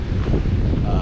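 Strong wind gusts buffet the microphone at a lakeside in the Eastern Sierra between Mono and Convict lakes, a loud, rough low roar filling the brief moment.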